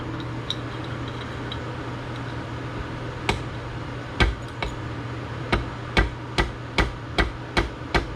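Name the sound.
hammering wrist pin into Yamaha 50TLR outboard piston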